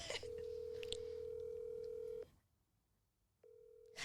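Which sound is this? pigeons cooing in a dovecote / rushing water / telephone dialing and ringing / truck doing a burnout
telephone dialing and ringing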